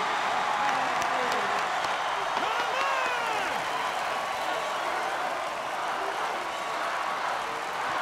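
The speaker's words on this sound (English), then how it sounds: "The crowd anticipating a great fight now as Apollo is in the ring." A large boxing arena crowd roars continuously with cheering and applause as a fighter enters the ring, dense and unbroken with voices blended throughout.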